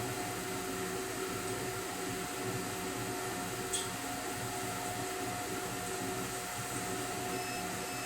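A Thunder Laser Bolt laser engraver fires with a faint, steady mechanical hum and fan-like whir, constant and low with tonal lines, plus a brief tick midway and no talking.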